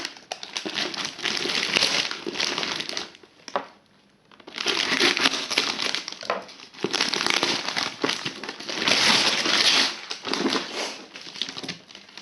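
Close, loud crinkling and crushing of a plastic packet, continuous rustling with a brief pause partway through.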